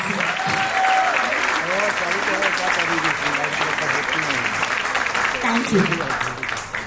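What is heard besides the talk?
audience applause at school annual day celebration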